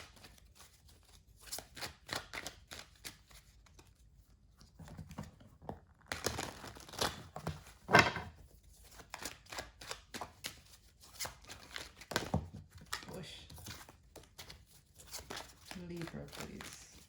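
Tarot cards handled and shuffled close up, soft papery flicks and crinkling slides in uneven bursts, fairly quiet, with a person talking over parts of it.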